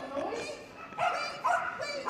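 A dog barks and yips repeatedly at the Crufts 2024 dog show, four or so sharp, excited barks close by in quick succession.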